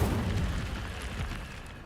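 Incendio fire spell cast in Hogwarts Legacy, a soft whooshing burst of flame with a low booming rumble that fades over a couple of seconds, fairly quiet.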